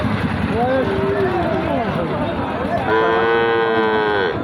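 Cattle moo nearby at a cattle market, with several low drawn-out calls ending in a longer, louder one, heard over people talking in the background.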